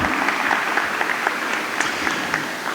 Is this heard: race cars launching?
no